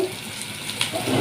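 Hot water poured over food while making Egyptian koshari at home, a steady close splashing gush running throughout with a brief brighter burst midway.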